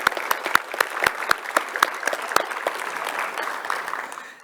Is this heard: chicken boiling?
no